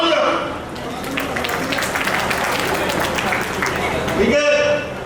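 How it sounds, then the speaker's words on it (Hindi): A crowd at an Ambedkar Jayanti community gathering bursts into dense, sustained applause that swells and holds for several seconds before fading, with a voice speaking over the start and end. "तालियां।"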